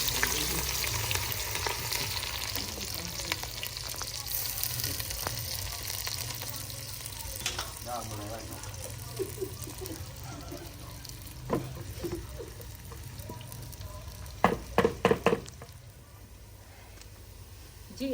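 Onions frying in hot oil in a village-style kitchen, a continuous crackling sizzle with occasional clinks and a cluster of sharp knocks near the end, fairly quiet overall.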